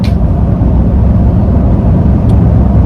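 A 2022 Toyota Tundra TRD Pro CrewMax hybrid pickup on off-road tires accelerates in sport mode on wet tarmac, a loud, steady low engine rumble heard close up from start to finish.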